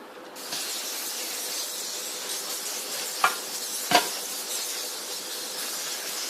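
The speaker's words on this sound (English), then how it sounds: "Spray it off with oil." A steady cooking-oil spray hisses continuously onto vegetables, with two brief sharper bursts partway through.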